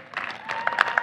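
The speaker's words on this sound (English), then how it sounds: "You can clap, it's okay." Audience applause at a U.S. Coast Guard Academy commencement, a steady wash of many hands clapping with brief louder bursts, fairly close and filling the space.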